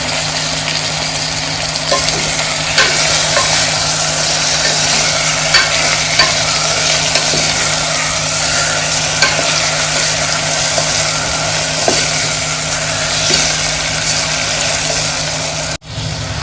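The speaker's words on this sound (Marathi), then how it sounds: "आणि हे देखील मस्तपैकी परतून घेऊया" Tomatoes sautéing with garlic and onion in a pan for val khichdi, a steady close sizzle with stirring and scraping throughout.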